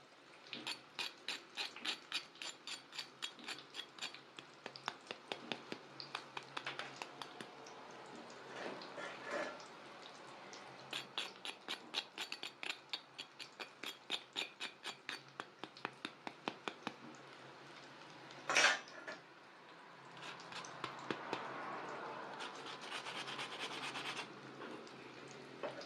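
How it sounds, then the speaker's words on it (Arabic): Crispy cauliflower fried without oil, crunched in quick repeated bursts of brittle crackling, close and fairly quiet, with a brief louder snap near the end and no voices. "بص اسمعي القرمشه هنا عامله"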